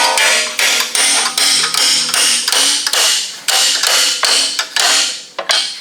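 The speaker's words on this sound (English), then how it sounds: "hammer these down till they fall out" Repeated metallic hammer strikes driving pins out of a torque converter from a locked-up engine, about a dozen sharp, ringing blows in a steady rhythm, close and loud.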